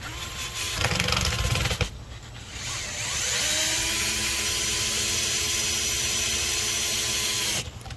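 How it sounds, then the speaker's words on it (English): A power driver runs screws into an electrical box during apartment maintenance, giving a short burst of whirring and then a long, steady, loud motor whine that holds for several seconds before cutting off. "I'll run these other 2 screws in to mount it to the box."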